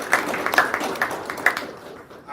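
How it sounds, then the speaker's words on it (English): Applause for a tech event's panelists from a modest indoor audience, a short burst of scattered clapping with a few sharper hand claps that thins out and fades within a couple of seconds. "I want to give a warm round of applause for our panelists"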